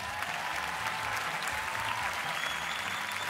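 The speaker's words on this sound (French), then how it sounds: "On peut les applaudir encore une fois." An audience at a breakdance battle in France claps continuously, a dense and steady patter of many hands at moderate distance, lasting the whole stretch without pause.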